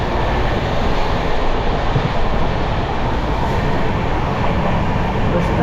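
A passenger train running at high speed toward Delhi with rain outside, heard from inside the carriage as a loud, steady broadband rumble and roar that continues unbroken throughout, with no talk.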